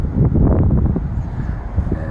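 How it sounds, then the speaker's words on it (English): Strong wind blows across an outdoor microphone in a steady, loud rumbling roar, buffeting continuously with no other clear sounds over it. "It's windy."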